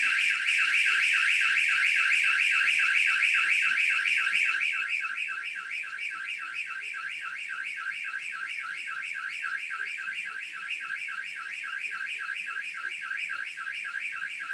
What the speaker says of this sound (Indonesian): ketika ada orang yang melompat, maka dia akan menimbulkan alarm